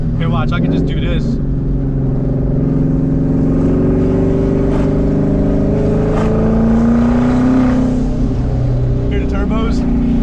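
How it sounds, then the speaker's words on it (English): A loud twin turbo Ford Mustang engine drones up through acceleration and shifts in a close continuous roar, with turbo whoosh and occupants' speech mixed in. "turbos. Don't that sound awesome?"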